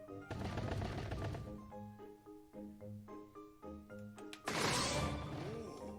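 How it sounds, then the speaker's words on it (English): Repeated sword slashes from a spin attack chopping through a ring of logs in Zelda: Skyward Sword, sharp cracking hits in quick bursts over game music, with a loud whooshing swell near the end. "Use a spin attack to cut them."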